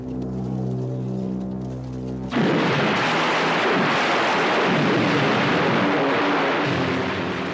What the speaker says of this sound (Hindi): हे गरजने वाले मेघ, लक्ष्मण आ गया है